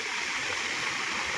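Large waves breaking at sea around a small fishing boat in the Philippine provinces, a steady, even wash of water with no breaks, fairly loud and close.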